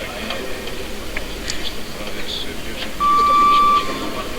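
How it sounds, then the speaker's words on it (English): A 30-second buzzer sounds at a weightlifting competition, a steady single electronic tone lasting under a second, loud against crowd noise and commentary. "30-second buzzer in the background."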